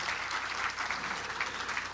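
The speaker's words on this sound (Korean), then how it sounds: "박수로 좀 맞아주시기 바랍니다" Steady, close applause from a seated concert-lecture audience welcoming speakers back to the stage, an even wash of many clapping hands with no pauses over two seconds.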